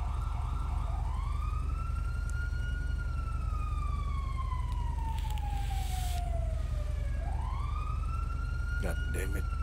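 Police siren wailing in long rising and falling sweeps, steady and fairly prominent over constant low rumbling background noise, with a few brief knocks near the end.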